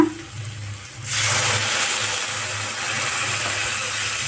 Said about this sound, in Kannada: ಈಗ ಇದಕ್ಕೆ ನಾವು ಈ ನೀರು ಹಾಕೋಣ